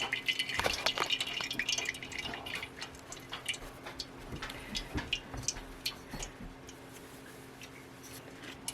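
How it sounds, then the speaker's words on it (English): Homemade elderberry syrup drains from a lifted straining bag, with irregular close drips and small liquid patters that thin out over time. "if it's cool enough to touch, you can always pick the bag up and just let it drain"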